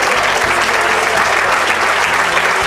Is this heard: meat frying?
no